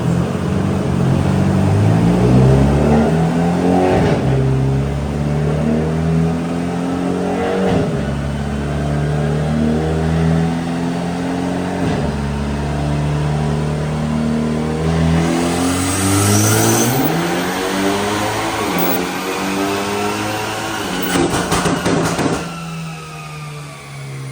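A Hyundai Elantra N engine revs hard on a dyno, repeated loud rising pulls through the gears with brief drops at each shift, ending in a high-rpm roar that cuts back to idle.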